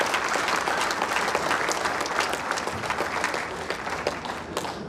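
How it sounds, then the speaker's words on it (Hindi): Loud, sustained applause from a large audience at a public gathering, welcoming three women onto the stage; dense steady clapping fills the whole stretch with crowd murmur beneath. "एक बार आप सभी से आग्रह करूंगा कि जोरदार तालियों से हम इनका स्वागत"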